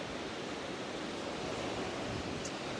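Continuous broadband roar of surf breaking on a wide beach at Bentota, Sri Lanka, steady and unbroken with no distinct wave crashes, fairly loud and close, no voices.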